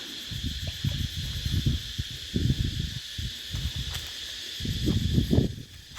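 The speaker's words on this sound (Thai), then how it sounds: "เสียงนกเสียงจักจั่นห้อง" Cicadas drone steadily outdoors at the end of the dry season, with birds calling. The high insect buzz runs without a break while low rumbling bursts of wind or handling noise come and go. No one speaks.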